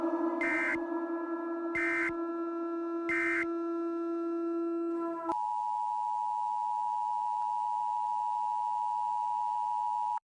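An Emergency Alert System tone sounds: three short buzzing data bursts, then a harsh two-tone attention signal, followed by a long steady single-pitch tone that holds for about five seconds, loud and alone.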